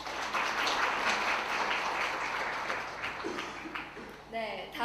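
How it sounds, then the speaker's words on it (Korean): Audience applause at a software and humanities conference lecture, steady clapping for several seconds that fades as a speaker's voice comes in near the end. "큰 박수 부탁드리겠습니다"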